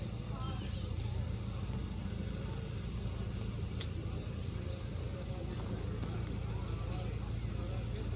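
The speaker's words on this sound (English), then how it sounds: "Here we have the cherry red Volkswagen Golf with the tunes." A cherry red Volkswagen Golf idles at a classic car meet outside a pub, a steady low engine rumble running unbroken throughout with a couple of faint clicks.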